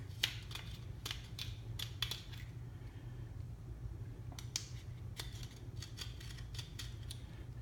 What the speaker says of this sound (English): Just lightly and easily cut the excess that's sticking above the lock ring